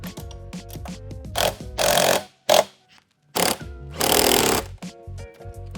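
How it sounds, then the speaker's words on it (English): Mechanical tool noise as a 13mm socket and 14mm wrench tighten the rear shock bolts while an EBox electric dirt bike is assembled, with repeated bursts of harsh broadband rattling and grinding separated by short clicks and brief silences, close and fairly loud. "We're gonna use a 13mm socket and a 14mm wrench for the shock."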